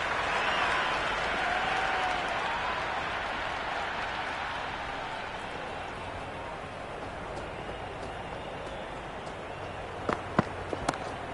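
A cricket crowd applauds a big shot in a broad, steady wash of clapping and cheering that slowly fades, heard from a distance, with a few sharp claps near the end.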